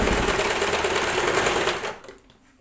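A sewing machine runs steadily, stitching churidar fabric up close, then stops and fades near the end, with no talking over it.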